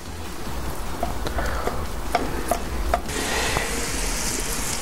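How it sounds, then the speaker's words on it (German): Minced meat frying in a Dutch oven for a cheeseburger noodle pot produces a loud, steady sizzle, with a few sharp clicks and scrapes from stirring and no voices. "Ich brate jetzt auf jeden Fall erstmal das Hack an."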